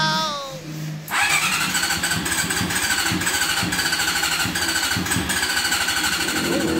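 A 1986 Honda CBR400RR motorcycle engine, just after carburetor cleaning and tuning, cranks briefly, then catches and settles into a close, loud, steady pulsing idle.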